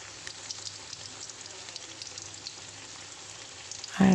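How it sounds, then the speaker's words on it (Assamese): Potatoes fry in a pan with turmeric and salt, giving a steady, even sizzle that runs throughout with a louder burst right at the end. "আৰু ধুনীয়াকৈ আলুখিনি অকণমান ফ্ৰাই হ'বলৈ দিম"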